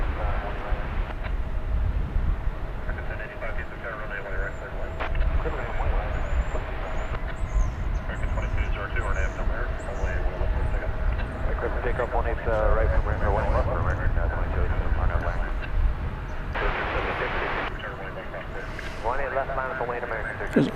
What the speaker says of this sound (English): A321s arriving.